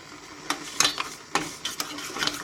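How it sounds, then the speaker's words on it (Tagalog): A pot of home-cooked food boils on the stove, giving faint bubbling with a few sharper clinks and scrapes scattered through, close and quiet, with no talk. "Naku, kumukulo na."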